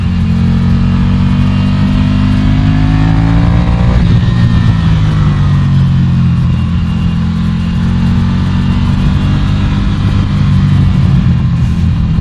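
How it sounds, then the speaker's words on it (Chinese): A Ducati Scrambler Café Racer twin engine roars loudly and continuously up close, with pitch rising and sweeping under acceleration and a steady growl throughout. "当然还有引擎的声浪嘛，我觉得是很好听"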